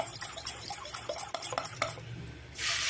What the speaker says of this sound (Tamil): முட்டை நல்லா அடிச்சுப்போம்